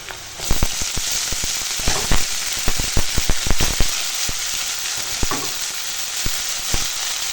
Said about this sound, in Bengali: কাঁচা লঙ্কা চেরা তেলের ওপর দিয়ে দেবো দিয়ে একটু ভেজে নেবো একসঙ্গে